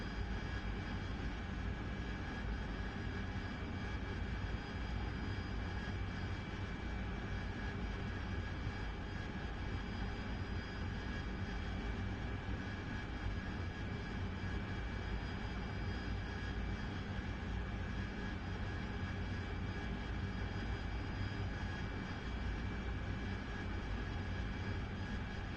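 An AV-8B Harrier's jet engine in the DCS flight simulator during air-to-air refueling, a steady, even roar with a constant whine held unchanged throughout, fairly quiet and without voices.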